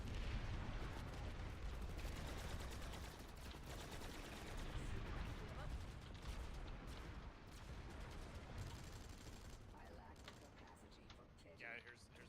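Shotgun blasts in the shooter game Planetside, fitted with a smart choke, a dense run of booming shots over heavy background din, mid-distance and fairly steady, with a voice speaking throughout.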